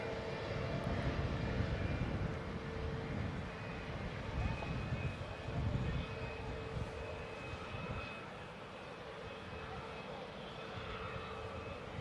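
ATR turboprop airliner engines droning steadily at Wellington Airport as the plane lines up for takeoff, a loud, sustained roar that eases slightly toward the end, with gusty wind buffeting the microphone.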